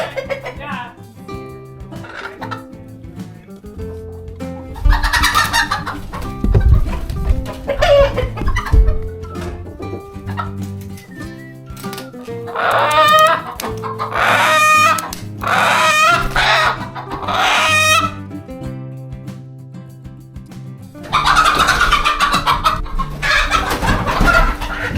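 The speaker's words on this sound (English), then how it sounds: "We need to get the roosters out of here." Farmyard chickens and roosters clucking and crowing close by in loud, overlapping bursts, with several drawn-out crows rising above the busy clucking and no speech.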